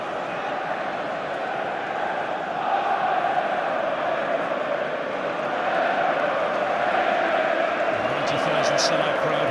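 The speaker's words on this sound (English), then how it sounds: "Sellout crowd here at Wembley today." Steady roar of a sellout football crowd filling Wembley during the 2016 League Cup Final between Liverpool and Manchester City, a dense continuous murmur that swells slightly midway, with a few brief whistles near the end.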